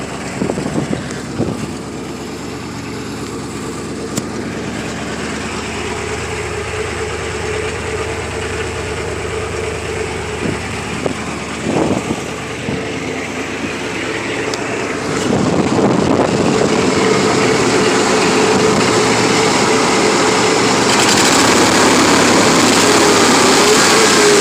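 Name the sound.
pickup truck engine idling after startup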